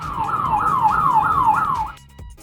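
An ambulance siren wails in a rapid, repeating rising-and-falling pattern, loud and close, sweeping about five times before cutting off abruptly, leaving near silence at the end.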